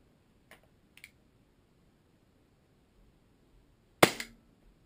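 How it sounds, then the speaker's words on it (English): Custom WE G17 airsoft pistol fired over a chronograph using 2 O's: two faint pops early, then one sharp, louder crack after a pause, with quiet between. "Here's the chrono test of my custom WE G17."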